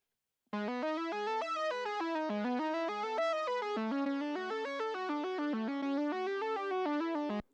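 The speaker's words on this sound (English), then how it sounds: "Here's the synth line." A distorted, effects-heavy synth lead for a modern metal track plays alone as an isolated stem, a busy stepping melody held at steady loudness for about seven seconds before cutting off.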